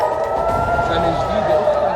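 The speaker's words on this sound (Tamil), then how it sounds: "இஸ்ரேலில் விழுந்த இருபது ராக்கெட்டுகள் சைரன் ஒலியுடன் தொடங்கிய புத்தாண்டு" An air raid warning siren in Israel wails in a steady, sustained tone at moderate distance, with a voice talking over it.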